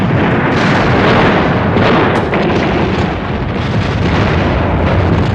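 WWII naval battle off Guadalcanal, with warship guns including the forward guns of the cruiser USS Atlanta firing, heard as a loud, continuous rumbling roar of blasts and booms without clear separate shots, alone without talk.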